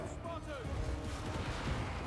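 Massed gunfire from shooting units in the battle game Total War: Warhammer 2, a dense continuous rumble of overlapping shots and booms with faint game sounds on top.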